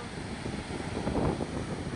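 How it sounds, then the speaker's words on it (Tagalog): Strong wind roars steadily across an open seashore where waves are running high, a dense broadband rush with gusts swelling near the middle and no voices. "Ang lakas po ng hangin!"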